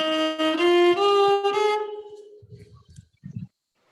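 A violin bows the seven notes of the Indian scale in a quick rising run, sustained and close, ending in a long fading tone followed by a few faint knocks.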